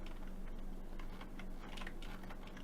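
Computer keyboard keys pressed in rapid succession while entering Blender shortcuts, a close, dense run of light clicks and taps over a faint steady room hum, with no talking.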